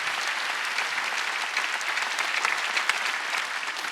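A church congregation at a Korean Wednesday worship service claps steadily, a dense, even wash of applause filling the room for the whole stretch without a break.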